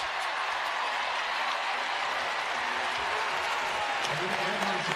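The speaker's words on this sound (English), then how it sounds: "It gets her mom up and cheering" Fans at a Georgetown versus UConn women's basketball game cheer and clap, a steady broad roar of crowd noise heard under a commentator talking throughout.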